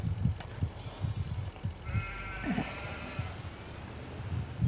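Sheep in the video game Farming Simulator 25 bleat repeatedly, several overlapping calls at moderate distance over a quiet pasture ambience, without voices.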